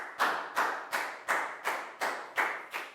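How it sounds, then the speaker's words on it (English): Clapping in a classroom, eight evenly spaced sharp claps at a steady beat, close and fairly loud with no voices over them. "Big round of applause for Prel, please, guys."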